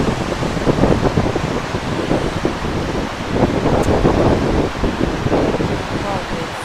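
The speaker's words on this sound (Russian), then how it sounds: "ветер прямо вышибает телефон из рук" Strong wind buffets a handheld phone microphone on a roadside stop during a car trip from Yakutsk to Abkhazia, a loud continuous roaring rumble with gusty swells and no letup.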